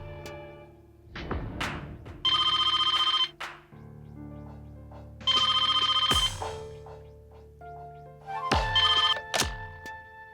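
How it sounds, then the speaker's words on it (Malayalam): A telephone rings in repeated bursts, each a loud electronic trill, with separate thuds and clicks between the rings, close and clear with no talk. "ഫോൺ ചെയ്യേ."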